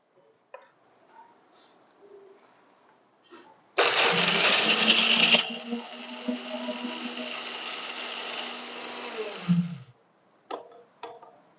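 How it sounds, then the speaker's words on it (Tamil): A kitchen mixer grinds amla and spices into powder, starting abruptly with a loud whirring roar that settles into a steadier hum for about six seconds before cutting off, with faint clicks and handling sounds before and after. "இப்போ இதை நல்லா ஆடி பார்த்து இதை நம்ம பொடி பண்ணிக்கலாம்"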